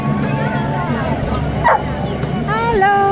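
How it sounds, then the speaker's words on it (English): A dog at an outdoor farmers market in Bossier City, Louisiana gives short yips and whimpering barks, close by, under steady crowd chatter and nearby voices. "The dog is so cute."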